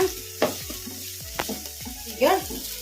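Tomato and onion fry in a pan, a steady close sizzle with a few sharp scraping stirs that come in bursts, with no voices.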